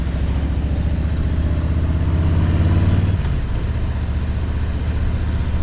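A 2018 Harley-Davidson Street Bob 107 V-twin idling nearby with a loud, deep, lumpy rumble that stays steady, then the pitch shifts slightly as the engine settles partway through.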